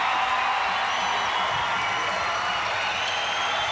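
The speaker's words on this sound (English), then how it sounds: "let's have a round of applause for Scott and Neil" A television studio audience claps and cheers for contestants on the 1995 Australian Gladiators show, a continuous, even wash of applause holding steady throughout.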